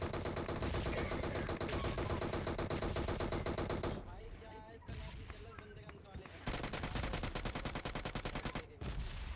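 Gunfire in a shooter video game with an Mk14 rifle: loud, dense bursts of rapid shots, a brief lull with scattered fire, then another sustained volley, all close and continuous.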